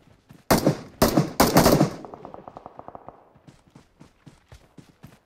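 Gunfire in the mobile game BGMI: a few loud, dense bursts of shots, then a rapid rattling volley that thins into quieter, evenly spaced single shots.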